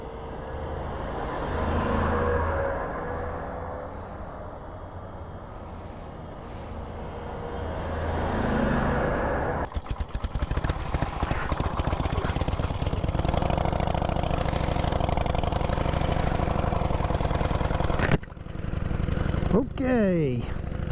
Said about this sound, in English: Let these heavy vehicles go.